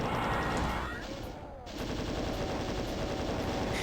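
Rapid chaingun fire from chaingunner enemies in Doom's Plutonia, a dense continuous rattle of gunshots that briefly dips before resuming at full intensity throughout.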